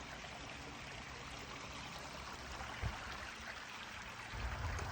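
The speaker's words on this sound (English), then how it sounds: "there's a little trail here on the way to the site that goes out to this little creek" A small creek named Trout Run flows beside a hiking trail near a campsite, making a steady, faint, broadband trickle and rush with no voices.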